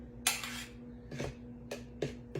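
Spoon scraping and clinking in a bowl while mayonnaise is stirred into a large grated carrot salad, several separate scraping strokes over a steady low kitchen hum, close and fairly quiet.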